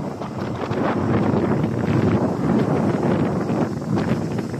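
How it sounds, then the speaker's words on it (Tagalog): Strong, steady wind buffets the microphone on a ship deck during high wind speeds that halt lifting work, a dense continuous roar with rustling gusts and no speech. "Malakas ang hangin."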